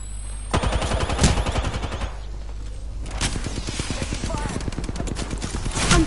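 Rapid gunfire in an Apex Legends firefight, with dense bursts of repeated shots that stay loud and close the whole way through, broken by a short lull before the shooting picks up again.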